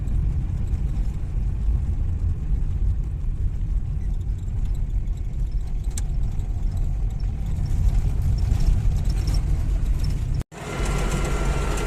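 An MTZ tractor drives through a field sowing winter wheat, its engine giving a steady low rumble for about ten seconds before the sound abruptly cuts and resumes with a brighter noise.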